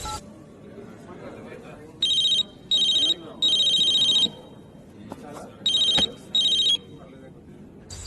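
A telephone rings in a room in short repeated electronic bursts, five evenly spaced rings with one longer ring among them, loud and close over background chatter and voices.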